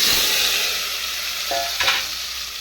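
Chili powder and turmeric sizzle in hot oil for an egg biryani, a bright, steady hiss with a couple of brief stirring scrapes near the end.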